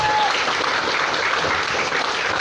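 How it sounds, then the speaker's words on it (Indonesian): An indoor audience at a business networking presentation claps for a presenter, a dense, loud, continuous burst of applause throughout with no voices standing out. "Berikan aplaus untuk Mas."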